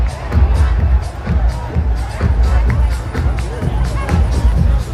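Dense crowd noise at a house music festival in Chicago's Millennium Park, with overlapping voices, chatter and occasional shouts surrounding the listener at close range and no clear music standing out.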